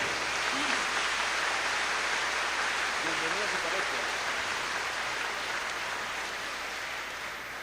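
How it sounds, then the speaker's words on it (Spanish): A church parish audience gives someone speaker sustained applause, a dense, even roar of clapping that carries on for several seconds and tapers slightly at the end, with faint voices beneath. "Un aplauso grande para esta mujer"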